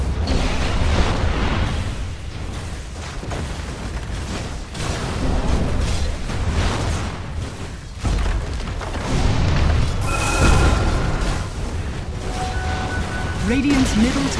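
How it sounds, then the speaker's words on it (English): Combat on Radiant's middle tower in Dota 2, repeated booming hits and bursts of spell and attack effects against the structure, loud and continuous with a few brief chime-like tones near the end. "Radiant's middle tower is under attack."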